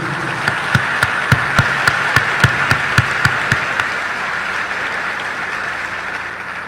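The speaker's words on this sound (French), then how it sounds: "On encourage le monde de bien avec un gros applaudissement solidarité." Sustained audience applause at a graduation ceremony where President Aristide speaks, a steady dense wash of clapping with a few louder, evenly spaced thumps in the first half, fairly loud and with no talk over it.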